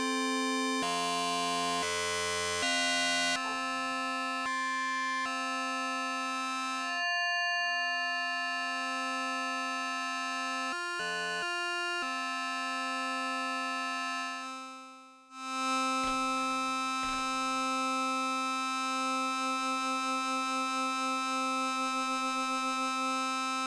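An Elektron Digitone 2 synth holds an FM drone, a sustained electronic tone with stacked steady harmonics that shifts in pitch and timbre over time, with brief noisy, buzzy textures midway, played alone without talk.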